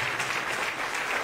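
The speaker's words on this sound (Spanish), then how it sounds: "Demos aplausos." Church congregation applauding, a short dense burst of steady clapping heard close, without voices over it.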